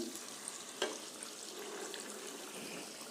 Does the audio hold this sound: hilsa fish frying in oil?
yes